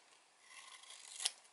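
Scissors snip a paper cup in a quiet craft setting, a faint rasping cut that ends in one sharp, close snip.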